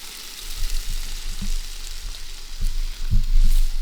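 Potatoes frying in a pan at a campsite, a steady close sizzle with a few soft clinks and stirring knocks, no talk.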